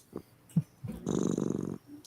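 A voice imitates a cat's purr, a short throaty rolling rumble after a few soft grunts, close and moderately loud.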